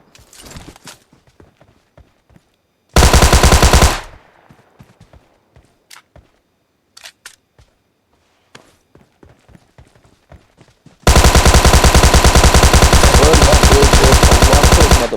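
Bursts of M2 and Thompson gunfire in PUBG Mobile Lite, with a short loud volley early and a long sustained rapid burst near the end, separated by scattered footsteps and quieter clicks.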